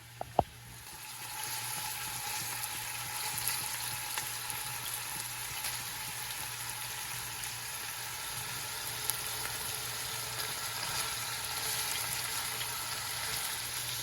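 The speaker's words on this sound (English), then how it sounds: "the meat sizzling away" Beef for stew browns in a hot pan, a close, constant crackling sizzle that runs on without pause after a couple of faint clicks at the start.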